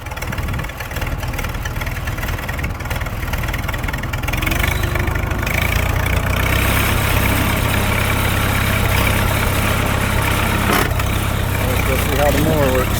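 Engine of a 1942 Farmall H tractor running steadily, a loud close rumbling idle with a low knocking beat, with a person's voice heard over it.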